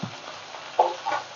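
Tangra fish frying in a pan with a soft, steady sizzle, topped by a couple of brief louder spits and pops.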